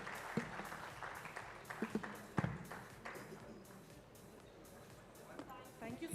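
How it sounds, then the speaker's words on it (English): Audience applause follows a business conference panel at TiEcon Delhi 2023. Fairly faint clapping with a few sharper claps runs through the whole stretch, with a voice speaking over it. "A huge round of applause for all of them."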